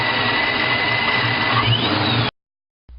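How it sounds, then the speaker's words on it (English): Centrifugal vortex supercharger spinning near 40,000 RPM, a loud steady rushing whine with a thin high tone that bends upward, then cuts off abruptly into silence before a brief low rumble returns. "Take a listen to the sound of a centrifugal vortex supercharger"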